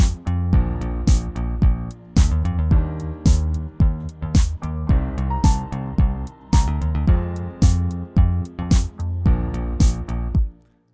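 Full verse of a song, with bass, drums and piano playing together: steady punchy drum hits over a sustained bass and piano groove, loud and continuous, no voices.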